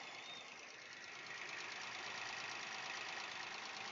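A Datsun 240Z engine runs steadily after an alternator replacement, holding a constant close idle with a slight rise in level midway and no talking over it.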